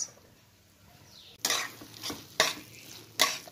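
A yardlong bean curry with spices is stirred in a pan. Three distinct scraping strokes of a utensil sound over a quiet sizzle.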